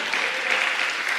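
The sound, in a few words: applause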